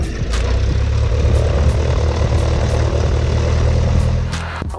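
A Cessna Skyhawk propeller plane's engine runs steadily before takeoff, a loud close drone with a constant low throb that persists through the whole stretch with no talk.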